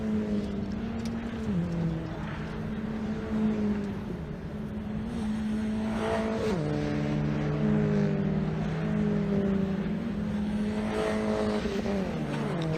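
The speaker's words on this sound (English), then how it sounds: "Leonard keeps his foot in the Orex car around the outside." Caterham race cars lapping Cadwell Park circuit, engines droning continuously with rising and falling revs as several cars run close together, loud and steady throughout.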